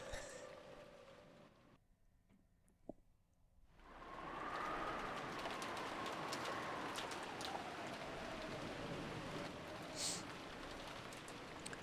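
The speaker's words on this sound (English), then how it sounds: "it was very quiet, filled only with the sound of the rain" Rain in the Umineko visual novel video game sets in after a brief hush, a soft steady hiss of falling drops that continues faint but even throughout.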